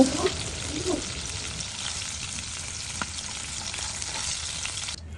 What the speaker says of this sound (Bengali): আমি একটু হালকা ভাজা দিয়ে নিচ্ছি